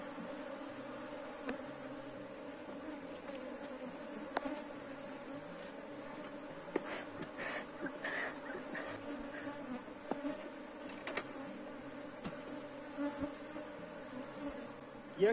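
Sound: honeybee swarm buzzing

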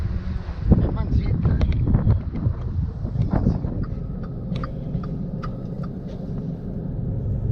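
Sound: cold wind

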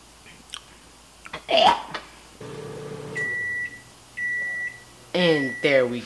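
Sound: microwave oven beeping when spaghetti is done

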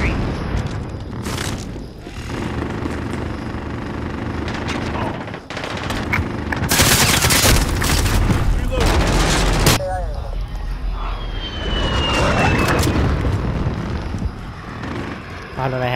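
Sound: VTOL air strike gunfire and explosions in a video game

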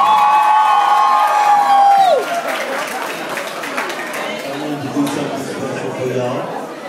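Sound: audience applause and cheering

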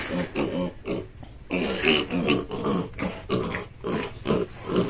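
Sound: pig

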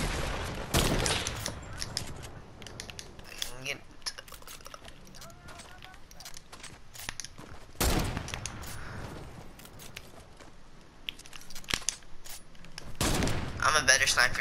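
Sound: sniper gunfire in Fortnite video game

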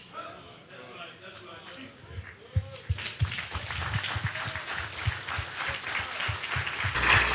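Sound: audience applause and clapping

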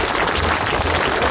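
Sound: crowd applause at sports championship ceremony

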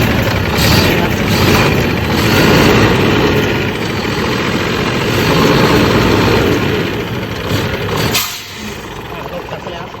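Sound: Hino Victor 380 tractor truck diesel engine revving

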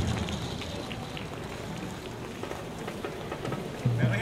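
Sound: rain falling

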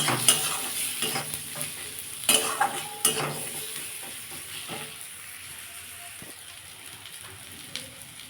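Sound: turmeric and cumin frying for lentil tadka

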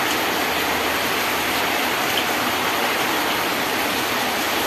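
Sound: rain falling

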